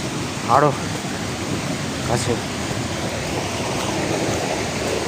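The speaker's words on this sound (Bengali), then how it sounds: "এখান দিয়েও ঝর্ণাটার আরও কাছে আমরা যাচ্ছি" A waterfall roars nearby, a steady broad rush of falling water filling the whole stretch. A couple of brief vocal sounds briefly rise above it.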